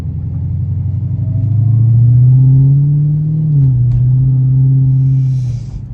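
A Dodge Hellcat cruises on a rainy highway, its engine producing a loud, deep continuous rumble that swells and dips slightly in pitch as it drives.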